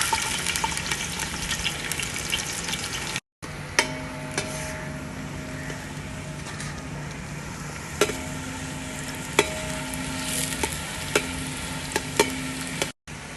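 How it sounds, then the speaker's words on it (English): Three chopped onions hit hot oil in a pot for mutton nihari, giving a steady, close sizzle and crackle with occasional stirring clinks, with no talking. "Oil is now quite hot, so I'm going to put 3 onions which I have chopped."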